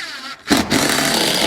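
A power drill drives decking screws through the holes of a toilet flange during bathroom plumbing work, a loud close whirring burst that starts after a brief pause and runs steadily to the end.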